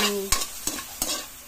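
Bottle gourd (upo) sautéing in a pan sizzles steadily, with three sharp stirring scrapes spaced evenly, heard up close with no voices.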